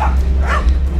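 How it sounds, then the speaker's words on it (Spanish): Dogs barking in a village during a cycling challenge, a loud close bark and yips over a dense, windy outdoor background in a brief burst. "Me animan los perros"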